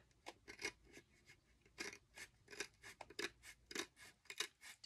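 Scissors cut along a line through craft kit material in a run of crisp, quick snips and slicing rasps, close up and fairly quiet, with short pauses between cuts and no voices.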